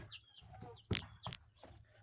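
A chicken clucks nearby in a few short bursts over a quiet outdoor background with faint low hum, beside a garden with bitter melon.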